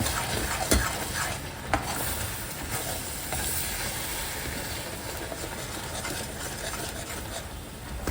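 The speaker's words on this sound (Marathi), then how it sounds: "आणि हे आता छान मिक्स करून घेणार, आपण ढवळणार." A spoon scrapes and stirs a ginger mixture in a pan while cooking ginger sweets, with a steady soft sizzle and scraping texture throughout and no talk.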